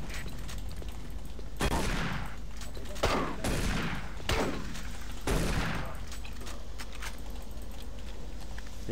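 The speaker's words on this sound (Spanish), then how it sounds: "¿A quién me está disparando este?" Gunfire from the video game Doom 3 BFG Edition crackles in sharp, loud bursts of several shots, repeating every second or so over constant game noise.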